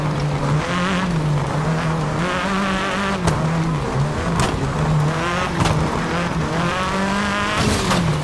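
A Peugeot 405 T16 GR rally car in the game Dakar Desert Rally, racing across a Nevada desert stage: a steady, loud engine drone with rising and falling revs, repeated gear-shift bursts and crackles, close and continuous without pause.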